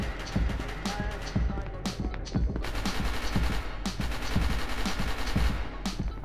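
Rapid gunfire rattles in SCP: Secret Laboratory as a facility guard keeps shooting a tough enemy, dense repeated bursts with footsteps and shouting voices mixed throughout.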